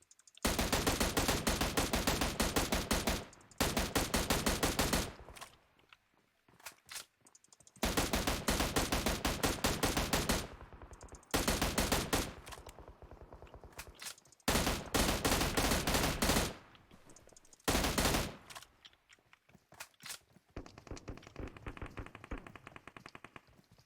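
Rapid bursts of automatic gunfire in PUBG Mobile, loud and close, come in several long sustained volleys broken by short pauses and a few single shots, with no talking over them.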